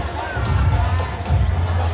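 An audience cheers and claps at an Ocean Park bird show after a green-winged macaw's trick, producing a steady crowd roar with waves of noise and a little voice babble mixed in.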